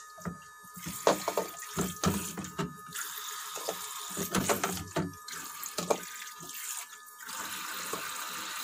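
Water runs steadily from a kitchen tap while bowls, plates and cutlery are washed in the sink, with repeated clinks and knocks of dishes over the constant splashing stream.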